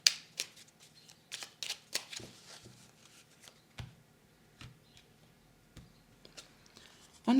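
Tarot cards are drawn and shuffled at close range, with soft intermittent flutters and crisp slaps of cards in short irregular bursts, quiet and alone.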